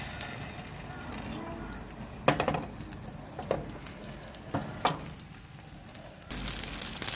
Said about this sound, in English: Now you can fry them. You need to shallow fry these cutlets.